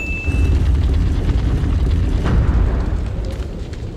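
An underwhelming explosion in Resident Evil 4 comes across as a muffled, low rumbling whoosh rather than a sharp bang. It holds at moderate loudness for several seconds, with no voices.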